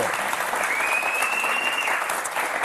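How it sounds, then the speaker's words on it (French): Applause from a studio audience on the French game show Motus, a dense, continuous burst of clapping that holds at an even level throughout. "on vous applaudit très fort, Christelle"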